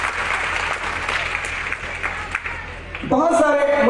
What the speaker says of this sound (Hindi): एक बार जोरदार ताली बजानी है।